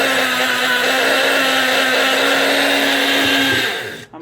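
A blender whirs steadily and loudly as it mixes a drink sweetened with agave syrup, running without a break before spinning down and cutting off near the end.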